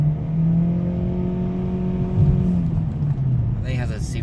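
A 2019 Ford Fusion Hybrid Titanium with a CVT accelerating, heard from inside the cabin as a steady rising engine drone under a voice, with some road noise.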